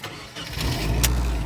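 A Nissan 240SX (S13) engine cranks briefly and catches, settling into a loud, close idle.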